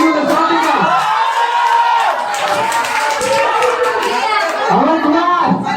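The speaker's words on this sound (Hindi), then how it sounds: "स्वागत कीजिए तालियों के साथ।" At a Saraswati Puja award ceremony, a school audience claps to welcome a Class 7 student, a continuous wash of many hands with children's chatter and crowd voices mixed in.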